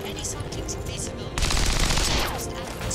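Gunfire in the video game XCOM 2: War of the Chosen, a sudden loud burst that starts partway through and stays dense for over a second before easing, over steady game background noise.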